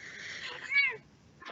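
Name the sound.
cat meowing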